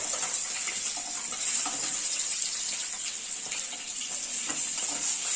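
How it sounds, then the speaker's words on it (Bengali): Steady, fairly quiet sizzle of pabda fish frying in oil, with a constant hiss and small crackles throughout, no voices. "সমস্ত মাছগুলোকে উল্টে দিলাম, দুটোকে খুব ভালো করে ভেজে নেব।"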